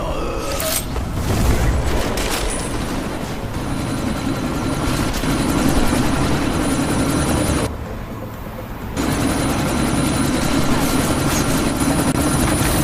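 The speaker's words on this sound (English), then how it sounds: "you need to disable that chopper" A helicopter's engine and rotor drone loudly, with a constant whine, during a sandstorm in a sci-fi film action scene. The noise dips for a moment partway through, then resumes at full strength.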